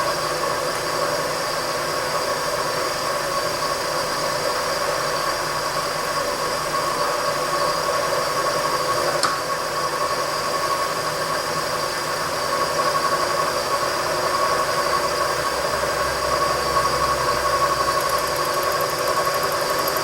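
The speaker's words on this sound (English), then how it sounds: "Tarmo's just going to turn the Bridgeport on" A Bridgeport milling machine fitted with a small fly cutter runs at a steady pitch, a constant mechanical hum with a faint whine that holds evenly throughout, with one tiny tick partway through.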